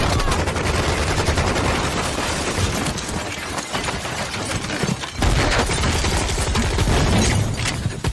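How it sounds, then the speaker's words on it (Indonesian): Gunfire from a dramatic film scene crackles in dense, rapid bursts that sound like automatic weapons, loud and continuous, with shattering impacts mixed in. "Tembakan tiba-tiba datang dari segala arah."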